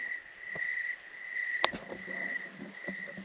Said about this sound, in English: I love the sound of the crickets.